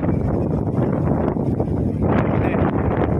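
Wind blowing hard at a windmill farm, steady buffeting rumble against the microphone with gusty swells, loud and unbroken throughout.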